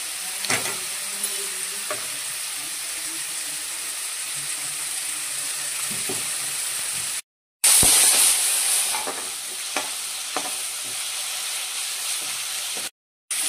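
Ginger-garlic paste sautéing with onion in a pan for prawn drumstick curry, steady close sizzling and frying with occasional stirring scrapes, broken by two brief silences.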